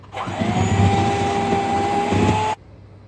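An electric mixer beats plum cake batter mixed with fruits and caramel syrup, a steady whirring drone that starts abruptly, runs for over two seconds, then cuts off, close and loud with no talk.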